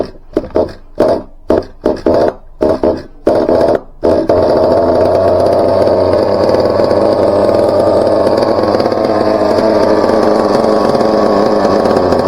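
A Team Associated MGT 4.6 nitro RC truck engine, running rich, sputters through a few short bursts that cut out, then catches and holds a loud, steady high-pitched buzz at close range.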